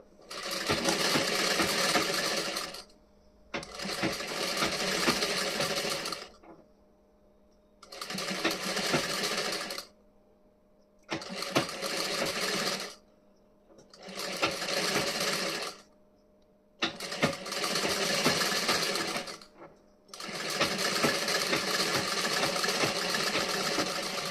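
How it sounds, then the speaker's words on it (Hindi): Sewing machine stitching the front part of a blouse: a loud, steady mechanical whirr in about seven runs of a few seconds each, separated by brief pauses, with no speech. "यहाँ पे हमें स्टिचिंग करनी है उसी तरीके से"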